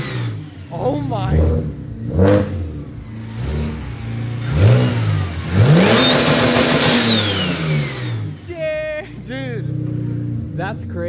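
A single-turbo BMW 335i with a T51R turbo revs hard, close by: several rising and falling engine blips, then a long climb with a high turbo whistle, followed by sharp wastegate or blow-off chirps, with people talking throughout.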